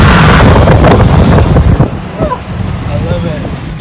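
Strong wind buffets the microphone through an open sunroof in a moving 2016 Ford truck, a loud broadband rush that eases slightly after a couple of seconds, with faint tonal sounds underneath.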